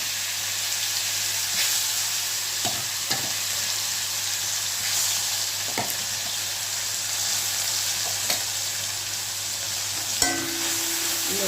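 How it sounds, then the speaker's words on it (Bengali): Cloves and cinnamon tempering in hot oil, a loud continuous sizzling hiss that holds steady from start to finish, broken by a few brief clicks and knocks of a utensil, with no talk. "একটু লবঙ্গ, 2টো লবঙ্গ আর দারচিনি ফোড়ন দিয়ে দিলাম।"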